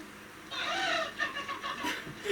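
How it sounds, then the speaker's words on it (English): A cartoon chicken in Camberwick Green clucks in a short run of soft, choppy squawks at moderate distance, with a faint background hiss and no talking. "I always loved the animation of the chicken and the sound it makes"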